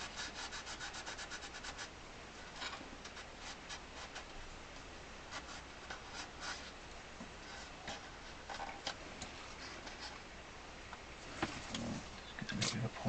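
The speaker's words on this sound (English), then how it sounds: "Just get a little bit of a polishing cloth in there." A polishing cloth rubs over a Hohner Carmen 24 bass accordion in soft, repeated scrubbing strokes, quiet and close, with occasional small knocks and no talking.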